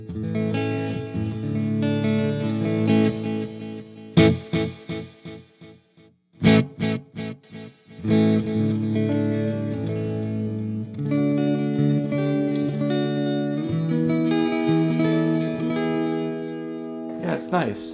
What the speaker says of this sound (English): And with reverb, you get a nice little thing happen.